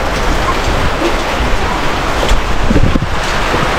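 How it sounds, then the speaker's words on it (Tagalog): Heavy rain during the rainy season pours down as a steady, dense broadband hiss that stays loud and even throughout, with no voices over it. "Grabe yung ulan dito."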